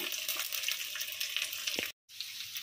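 Onions and green chillies fry in a pan with a steady, close sizzle and crackle, broken briefly by a moment of silence before the frying resumes.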